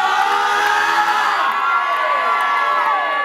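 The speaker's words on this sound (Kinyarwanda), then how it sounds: "amashyi menshi cyane rero twakiriye Pastor Christian" Church congregation cheering and shouting together after a call for applause to welcome a pastor, a loud dense crowd roar with high whoops running steadily throughout, fading slightly toward the end.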